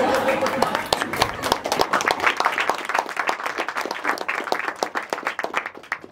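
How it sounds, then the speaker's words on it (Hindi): An audience claps along at a stand-up comedy show, with crisp, fairly regular claps in a steady rhythm that gradually thins out. A voice talks over the start. "उन्होंने ताली मारनी शुरू की"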